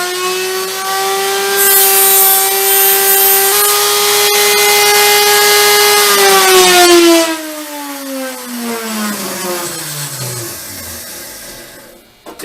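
A half-inch power tool squares the end of an arrow shaft for traditional bare shaft tuning, its steady motor whine running loud for about seven seconds before winding down in pitch and fading out.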